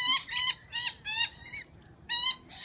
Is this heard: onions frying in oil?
no